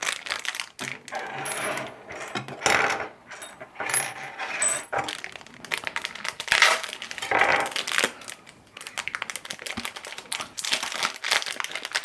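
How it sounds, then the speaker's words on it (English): A crinkly plastic bag handled up close in a garden setting, with loud irregular rustling and crumpling bursts alternating with brief pauses. "They do seem to have made bags noisier."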